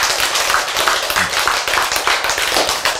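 An audience claps at a lecture, a loud, dense, continuous patter of many hands at an even rhythm from start to finish.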